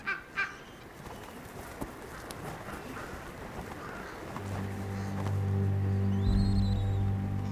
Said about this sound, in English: Ravens join the buffet.